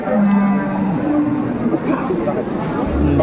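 A cow lows in a drawn-out moo amid a busy, noisy crowd of chattering voices at the Aftabganj cattle market in Dinajpur, Bangladesh, with more livestock sounds near the end.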